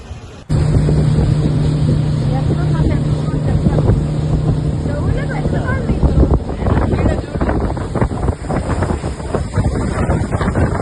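A boat on the Kerala backwaters chugs steadily with an engine drone and strong wind buffeting the microphone, loud and continuous with a low tone fading out partway through.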